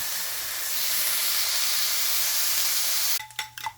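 A loud, steady hiss of ham frying fills the pan up close, then cuts off into a few clinks and metallic taps.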